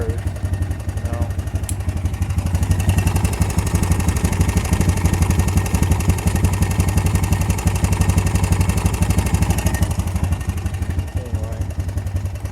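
A motorcycle-like engine idling steadily after a cold start on a rainy day, a loud, even mechanical chugging with a fast rhythmic clatter that holds close and constant throughout.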